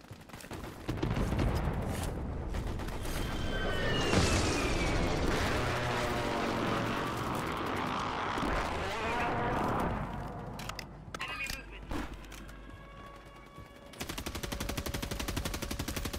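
A precision airstrike in a shooter video game, with loud continuous rattling machine-gun fire and rumbling blasts that build and sustain, then break into scattered shots and whooshes before a steady background hum; a voice speaks over it.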